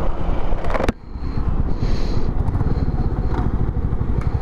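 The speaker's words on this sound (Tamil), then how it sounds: "ஸோ இப்போ ராயல் என்ஃபீல்டு வாங்கிட்டதுனால இப்போ இதை இப்போ வந்து ஓட்டி பழகிக்கணும்." A Royal Enfield Meteor motorcycle ridden on a hill road gives a loud, steady low engine thump, heavily mixed with wind buffeting the microphone, with a brief dip in the noise early on.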